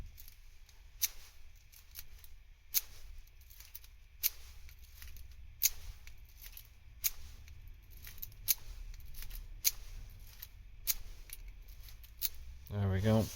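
Picking tools rake and zip a euro cylinder lock, producing sharp metallic clicks and scraping spaced a second or so apart, close up in a quiet room, ending with a brief rattle.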